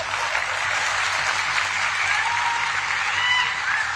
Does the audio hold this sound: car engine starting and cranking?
no